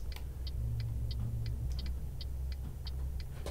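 Traffic in Euro Truck Simulator 2 gives a continuous, close engine rumble with a rapid, regular ticking over it, steady for the whole stretch and with no talking.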